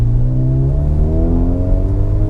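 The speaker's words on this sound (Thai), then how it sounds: "เสียงท่อเพราะไหม" A 2010 Toyota Vios 1.5E engine revs loudly up close, its modified exhaust note rising steadily in pitch as it accelerates.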